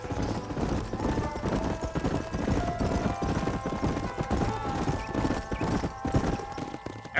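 Several horses ridden at a brisk pace in the Red Dead Redemption western game, rapid overlapping clip-clop hoofbeats close by and continuous, with a brief neigh and creaking tack amid the galloping.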